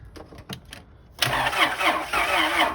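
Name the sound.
1999 Acura TL car engine starting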